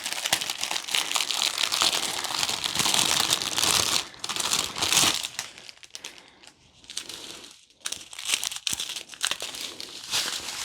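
Plastic packaging crinkles and crackles up close while a Diamond Art Club Christmas ornament kit is unboxed, dense bursts of loud rustling with brief pauses and quieter handling in between, no talking.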